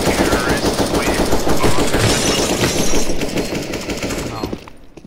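Rapid automatic gunfire in CS:GO, a dense, loud rattle of shots running steadily for several seconds before easing off near the end, with a voice talking over the shooting.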